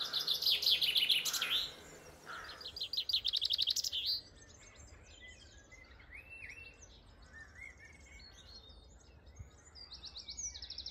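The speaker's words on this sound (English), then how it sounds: "Birds singing at dawn," Birds sing at dawn, clear chirping and trilling calls from several birds, loud and close at first, then fainter scattered tweets over a quiet outdoor background.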